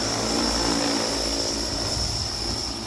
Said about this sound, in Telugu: ఇంక ఇలా డ్రోన్ ఇలాగ పిచ్చికరీ చేస్తూ ఉంది